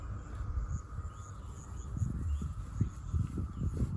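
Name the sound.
cicada calling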